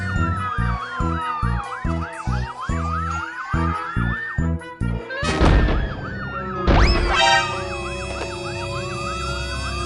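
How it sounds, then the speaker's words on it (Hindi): A police siren wails in rapid rising-and-falling cycles, loud and close, with rhythmic thumping beats early on and sudden crashes partway through. "पुलिस की गाड़ी"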